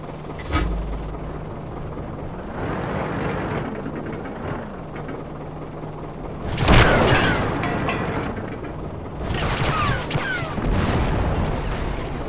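Tank cannon fire and shell impacts in the World of Tanks video game, with German tanks firing high explosive rounds; heavy booms over a constant engine rumble, one sharp blast standing out midway and more bursts near the end.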